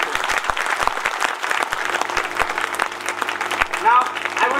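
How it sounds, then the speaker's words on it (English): Audience applause for actors at a school annual function, with distinct close handclaps in uneven rhythm over a busier crowd clapping, plus a faint tone and murmur beneath. "I request you to please give a hearty applause to all actors and encourage their contributions"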